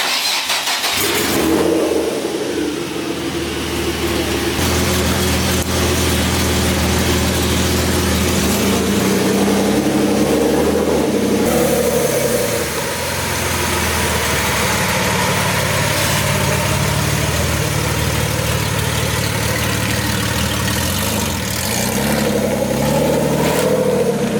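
A BMW E36 drift build engine cranks and catches, then settles into a steady, loud idle with occasional blips of revving, heard up close with no talking over it.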